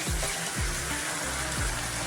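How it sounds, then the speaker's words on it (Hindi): Water is poured into a pan of jackfruit seeds cooking as a sabji, giving a steady broadband hiss with a few soft low thumps underneath and no talking. "अभी मैं थोड़ा सा पानी ऐड कर देंगे।"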